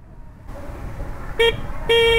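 Two short, thin horn beeps from an Ola Electric S1 Pro scooter sound over a low motor hum, the second slightly longer than the first.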